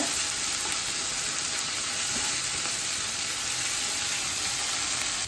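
Ginger garlic paste fries in hot oil for a king fish gongura curry, producing a loud, dense, unbroken sizzle that stays even from start to finish, close and without voices.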